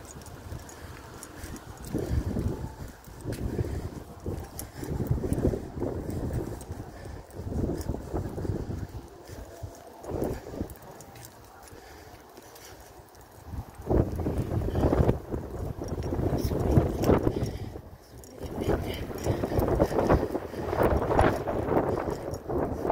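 Gusty wind buffets the microphone in rough, rumbling surges that swell and fade over about twenty seconds, with no voices.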